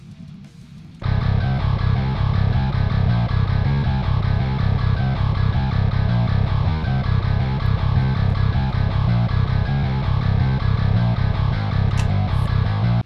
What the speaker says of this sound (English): So this completes the bass pattern for the verse riff.